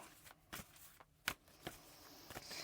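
Cards are shuffled in several quick, crisp riffles and snaps, close and fairly quiet, with short pauses between bursts.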